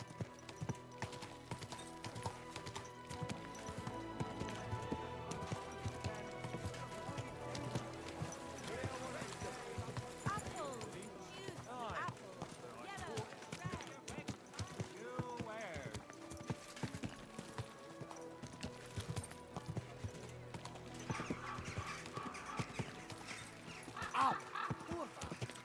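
Horse hooves clip-clopping at a steady walking rhythm in the medieval game Kingdom Come: Deliverance II, close and continuous, with someone speaking at times over the hoofbeats and background game ambience.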